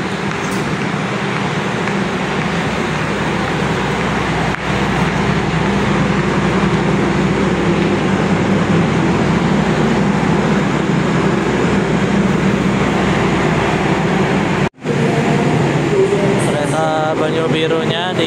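An Indonesian KRL electric commuter train passes near a station, a loud continuous rolling rumble with a brief dip late on and faint squeals toward the end.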